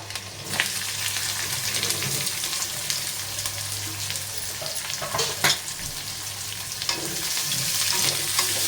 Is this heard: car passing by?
no